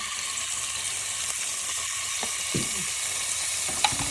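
Steady loud sizzling from ginger-garlic paste frying in a pan over medium heat, with occasional light scraping stirs and small pops, no talking.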